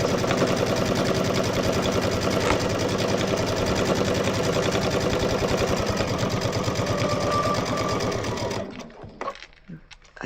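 A domestic sewing machine stitches steadily while quilting a churn dash table topper, a loud, fast continuous mechanical chatter that runs unbroken for most of the span and then stops, leaving a few faint handling noises.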